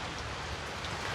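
Steady rainfall as a dense, continuous hiss, close and even, with no voices.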